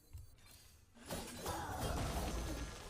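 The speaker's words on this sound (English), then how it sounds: "So we do Shield Shatter." A faint Shield Shatter card effect in the Hearthstone game breaks into a glassy, crystalline crash partway through, then a bright shimmering ring and low rumble linger quietly afterward.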